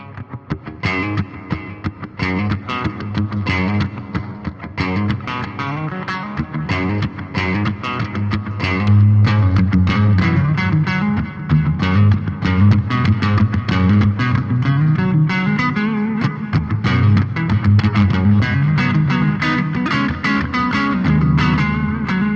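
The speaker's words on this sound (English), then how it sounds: "all of these repeats are being hit with reverb" Electric guitar played through a BOSS GT-1000 with delay feeding into reverb, notes ringing out with repeats washing into a dense, sustained tail that builds steadily louder, played alone without talk.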